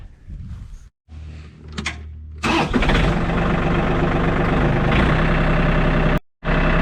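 A John Deere tractor engine cranks after a couple of brief stuttering attempts, then catches and settles into a loud, steady idle close by before cutting out briefly near the end.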